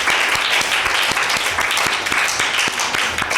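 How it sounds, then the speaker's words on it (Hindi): Loud, dense applause fills a Mother's Day children's program after a child recites a Bible verse, steady crowd clapping throughout with a few sharper individual claps standing out. "अंश के लिए ज़ोरदार ताली।"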